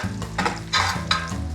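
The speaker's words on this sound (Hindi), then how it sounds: "अब इसको आप अच्छे से फ्राई कीजिए जब तक आपका लहसुन अच्छे से गोल्डन नहीं हो जाता।" Garlic and ginger frying in hot oil for a dal tadka, with a steady sizzle broken by several louder scraping bursts of stirring in the pan, close and clear with no voices.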